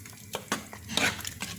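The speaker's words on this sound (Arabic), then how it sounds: "غادي نخلطوا هادشي، نخليوه يغلي." A spoon stirs a spice mixture of turmeric, paprika and seasoning for Moroccan seafood paella in a pot, giving soft scraping swishes and a few light metal clinks, close and quiet.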